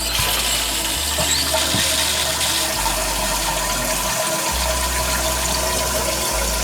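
Water rushing steadily into a toilet tank as it refills after a bidet attachment is installed and the supply is turned on, a continuous loud hiss with low hum throughout.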